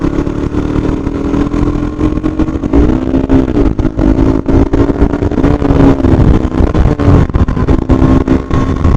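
A 2021 KTM RC 200 BS6 motorcycle engine hums steadily and loudly throughout while riding and turning, with a few slight rises in pitch and constant wind and road roar, no voices.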